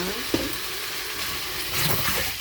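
Mixed vegetables and mushrooms for a buttered chop suey stirred in a hot pan, a steady sizzle with a sharp utensil knock early on and louder scraping and frying toward the end, close and without talk.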